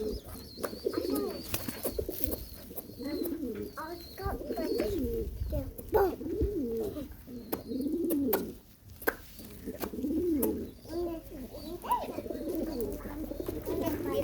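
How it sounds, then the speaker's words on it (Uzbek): Several pigeons coo in low, throaty bursts, close and nearly continuous, with brief pauses and some rustling in between. "Socham zo'r kaptar ekan, hammasini juvonasini boqyapti."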